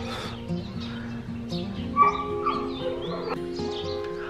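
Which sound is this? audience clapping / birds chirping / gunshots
birds chirping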